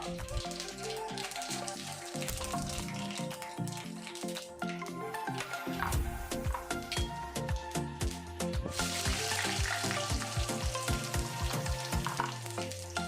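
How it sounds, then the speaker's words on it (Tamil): Mustard seeds and urad dal fry in hot oil in a pan for a ladies finger pachadi, making a dense, close crackling sizzle with sharp popping bursts and occasional stirring scrapes throughout. "ஆயில் சூடாயிடுச்சு கடுகு சேர்க்கலாம் அப்புறமா உளுந்தம் பருப்பு சேர்க்கலாம்"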